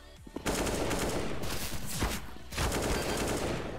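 Gunfire in the video game Counter-Strike, heard as dense sustained bursts of rapid shots filling most of the clip, with a short break in the middle.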